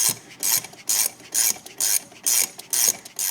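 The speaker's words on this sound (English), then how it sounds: "I'm going to tighten this down, and that is the wrong size wrench" Ratchet wrench tightening a front shock bolt on a second-generation Ford Ranger, about seven quick rhythmic bursts of clicking, close and alone.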